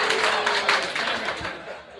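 A comedy club audience breaks into applause, a dense patter of many hands clapping near and loud that tapers off slightly toward the end.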